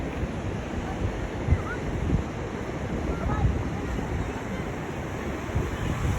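Large ocean waves roll in at a beach resort in La Union, a continuous rumbling surf with heavy wind buffeting the microphone, steady and fairly loud throughout with no clear talk.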